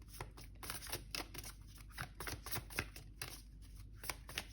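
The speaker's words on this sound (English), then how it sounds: "now I will actually focus on shuffling" Tarot cards are riffled and shuffled by hand in quick, repeated papery bursts, soft and close with a steady rhythm and no talking.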